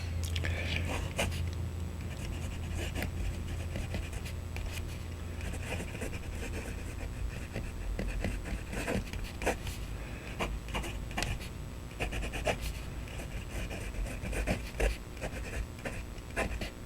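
Jinhao fountain pen with a medium number 6 nib writing in Tesla coil ink, a continuous close scratching with short strokes and pauses under a low steady background hum.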